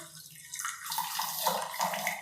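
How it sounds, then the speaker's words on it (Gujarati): A small splash of water pours into a pan of sugar, a brief close trickle that swells and gurgles over about two seconds. "થોડુંક જ પાણી નાખવાનું છે"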